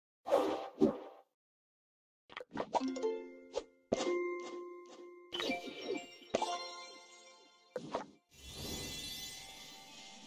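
Restoring a secretary desk in the game Manor Matters sets off a run of magical effects: whooshes, plops, bright chiming dings and tinkling sparkles in several separate bursts, ending in a shimmering swell, with no talking.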